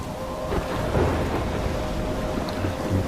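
Thunderstorm with steady rain in the video game Life is Strange, a continuous wash of rainfall with low rolling thunder rumbling underneath, no talking.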